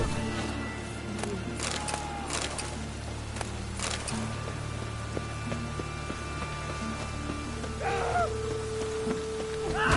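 Steady rain patters softly across the city streets of Novigrad in the game Witcher 3, a faint continuous hiss with brief voices and small sounds drifting over it.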